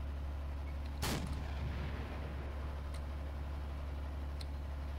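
An enemy tank's cannon firing at a Panzer III in the Steel Fury tank game: a single sharp, heavy boom near the start that rolls off over a constant low engine rumble, with faint distant reports later.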